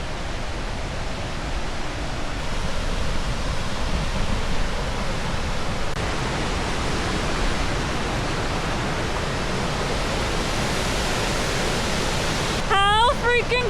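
A waterfall at Clifty Falls State Park, running with heavy flow, gives a loud, steady broadband roar that fills the whole stretch, with a brief higher sound at the very end.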